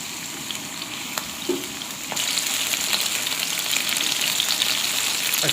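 Beef and green onion stir fry sizzles steadily in a pan, a dense hiss that swells louder about two seconds in and holds, with a few faint clicks of stirring and no talking.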